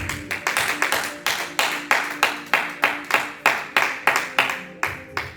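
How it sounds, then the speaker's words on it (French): A church congregation claps in worship, with steady, rhythmic, loud claps repeating about twice a second, close and continuous. "Acclame bien le Seigneur Jésus"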